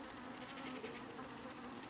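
Honeybees hum in a steady, close buzz that wavers slightly in pitch, a dense swarm droning continuously without pause as they exit through the mesh of an anti-hornet tent.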